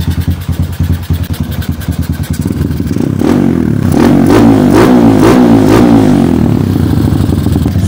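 A Kawasaki KLX 150 motorcycle engine, smoking slightly at higher RPM, idles with a steady clatter and then revs repeatedly in loud, close, rising bursts.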